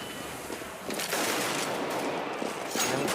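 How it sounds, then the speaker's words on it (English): Dense rapid gunfire from a Counter-Strike: Global Offensive match in a DreamHack Winter 2014 semifinal, continuous rattling shots over a broad noisy wash with no clear gaps, loud and sustained throughout. "he starts to rattle off shots, but is lucky to get away with his life in the end"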